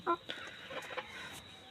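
A few soft clucks from native Bengali village chickens, quiet and brief, over a faint steady hum.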